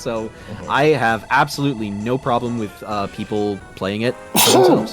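A sharp, loud sneeze bursts out near the end, right after someone talks steadily in a casual stream setting.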